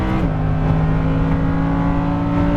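Lamborghini Huracan LP610-4 engine pulling hard after an upshift, a loud, sustained, rising drone that stays close and steady throughout with no talking.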